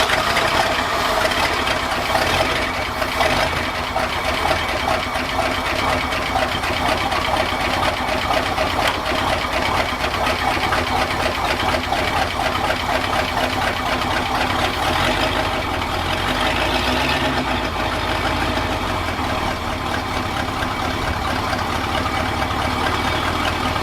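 A 1966 vehicle's engine running steadily on a freshly cleaned and reinstalled fuel tank and new fuel system, a continuous close mechanical idle with an even rumble and ticking throughout, no speech.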